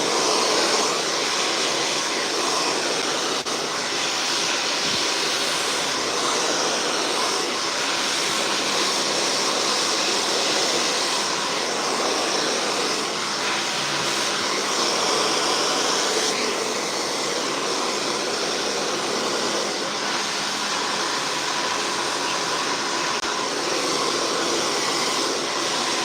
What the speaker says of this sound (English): The blow dryer is the heat.